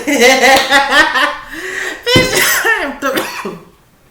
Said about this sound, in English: got myself coughing